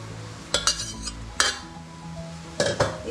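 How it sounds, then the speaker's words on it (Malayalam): Cucumber pieces for a Kerala pulinkari curry are tipped into a cooking pot on the stove, producing a few sharp clinks and clatters of metal utensils against the pot over a quiet kitchen background. "നമ്മുടെ വെള്ളരിക്ക ഒരു ചട്ടിയിലേക്ക് മാറ്റി കൊടുക്കാം."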